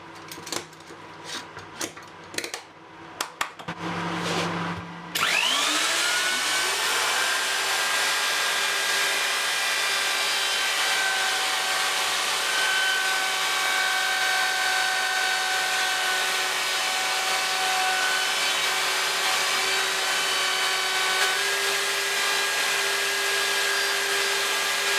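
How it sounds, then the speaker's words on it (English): After a few brief starts and clicks, a router fitted with a 1/4 inch bit runs continuously at high speed, cutting wooden trays with a steady loud whine throughout, no talk. "I'll do a swap out to the 1/4 inch router bit, extend it out a 1/2 millimeter, and then make that final pass through"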